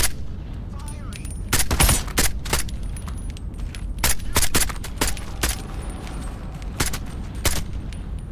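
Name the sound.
gunfire in video game ITR2 (Into the Radius 2)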